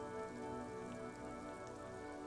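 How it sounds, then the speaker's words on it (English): Steady rain drums on the roof of a woodshed in a yard, a dense, continuous patter with a low hum beneath it, close and even throughout with no voices. "Rain falls onto the roof of a woodshed."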